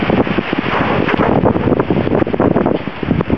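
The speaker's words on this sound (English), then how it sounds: "So we got a nice windy day, as you can tell." Strong wind buffets the microphone in loud, continuous rumbling gusts outdoors during solar cooker testing, with no voices.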